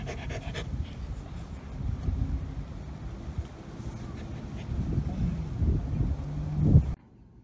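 A pet dog pants rapidly and continuously close to the microphone, a rhythmic huffing breath that grows louder and more agitated toward the end before cutting off abruptly.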